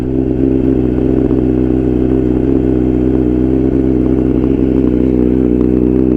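A 2021 Honda CBR1000RR-R Fireblade SP with a BT Moto ECU flash idles just after startup, a loud, close, steady low engine drone with a smooth, even pulse and no revving or talk.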